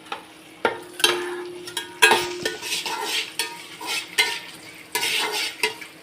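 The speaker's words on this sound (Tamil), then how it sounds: "வெங்காயம் நல்லா வதங்கட்டும்" Onions sauté in a pan while a utensil stirs them, producing a steady sizzle broken by repeated scraping and clinking strokes, close and clear with no talking.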